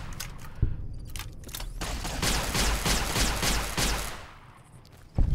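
Enemy gunfire in Fallout New Vegas, Old World Blues, as a sustained, moderately loud burst of rapid shots with sharp cracks at the start and end, fading in the middle.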